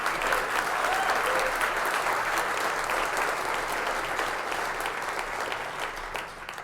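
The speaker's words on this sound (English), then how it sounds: "I think we should give them a round of applause for that" Sustained applause from an audience at a political commentary show, steady and dense throughout before tapering slightly at the end, with no speech over it.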